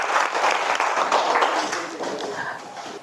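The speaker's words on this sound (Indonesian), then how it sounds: "tepuk tangan." Pupils in a classroom clapping together in a dense, steady burst of applause, close and fairly loud, tapering slightly toward the end.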